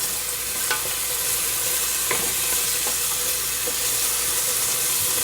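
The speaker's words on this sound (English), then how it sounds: "I'm going to saute the onions for about 7 minutes until they're nice and soft" Onions sautéing in a pot for vegan stovetop baked beans, a steady soft sizzle and hiss with a few faint scrapes of stirring, even and close throughout.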